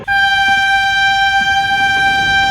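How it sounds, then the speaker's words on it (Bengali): A train horn blares as an express pulls out of platform 1 at a station, one long steady loud blast holding for the whole stretch with rumbling background noise beneath. "ট্রেন ছেড়ে দিচ্ছে তো"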